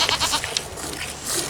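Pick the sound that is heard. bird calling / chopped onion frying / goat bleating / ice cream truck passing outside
goat bleating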